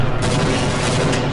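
A loud, dense explosion in Half-Life 1 fills the moment with a deep rumble and crackling roar.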